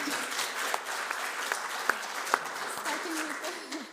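Applause from a conference audience at a GeoFutures vision talk in Milton Keynes, a steady wash of clapping with a few sharper claps standing out, with faint voice traces underneath.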